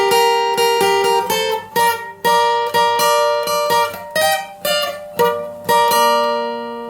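An acoustic guitar plays a rhythmic chordal intro, strummed in quick down-and-up patterns with bright ringing notes, alone and close.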